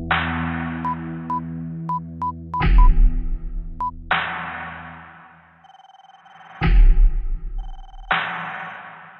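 A phone number is keyed in on a telephone in an indoor scene, giving a string of short, evenly spaced dialing tones over a low hum. Heavy thuds and longer tonal swells come in between the keypresses.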